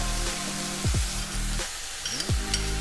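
Panca pepper paste spatters and sizzles in a hot pan with a steady crackling hiss. Short sliding tones come from the pan being stirred or scraped, and no voices can be heard.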